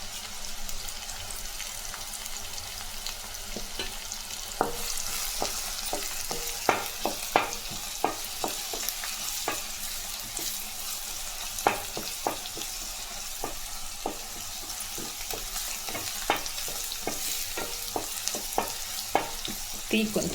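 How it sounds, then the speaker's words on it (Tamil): Cooked rice and curry leaves sizzle steadily in a hot pan, broken by repeated scraping clicks of a spoon stirring and tossing them at an irregular pace. "நல்லா செவந்து வர மாதிரி வதக்கலாம்."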